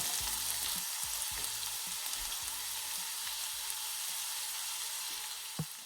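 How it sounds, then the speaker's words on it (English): Onions sautéing in a pan with salt for chicken keema biryani, a steady loud sizzle close by with frequent stirring knocks and scrapes of a utensil against the pan. "start sauteing the onions till they're golden brown."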